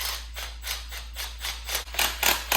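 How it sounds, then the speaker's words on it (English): Upper headlight bolts on a Suzuki DRZ400SM fitted with a JNS Engineering Morimoto headlight are tightened with a tool, producing a steady run of short, rhythmic ratcheting scrapes close up that grow slightly louder toward the end. "So I'm gonna tighten the 2 upper bolts on both sides."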